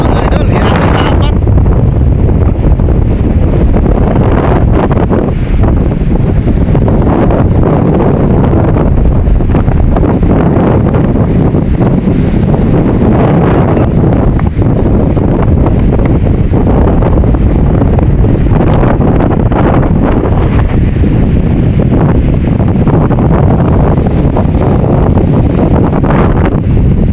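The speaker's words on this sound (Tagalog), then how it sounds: "Parang di nabawasan itong lakas ng hangin." Strong, steady typhoon wind roars and buffets the microphone throughout, with a low rumble of rough waves and boat motion underneath.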